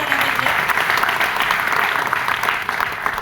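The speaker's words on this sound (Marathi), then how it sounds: "तर स्वप्नील नेवे सरांसाठी एकदा जोरदार टाळ्या झाल्या पाहिजे" Steady, dense applause from an audience at a business event in Aurangabad, Maharashtra, a continuous wash of many hands clapping at fairly close range with no pauses.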